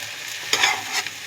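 Water poured into a pan of cooking moong dal and greens sets off a brief, sharp sizzling hiss that fades within a second.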